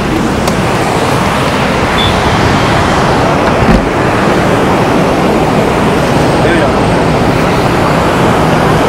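A broad, continuous rush of water falling in front of a room at Gangotri dominates throughout, loud and steady, with a faint brief tone and a soft knock partway through.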